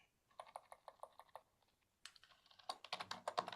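Typing on a computer keyboard: a steady run of crisp, close keystrokes, a brief pause, then a quicker, denser flurry of clicks, all faint and with no one talking.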